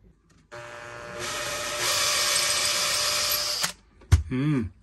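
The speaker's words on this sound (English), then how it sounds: "one thing I've learned about drilling holes to put wires in this boat is that you can never have a hole big enough" Power drill boring holes for wiring aboard a Nordhavn 47 trawler yacht, a steady whining motor held for about three seconds at close range, then stopping abruptly before a short burst of speech.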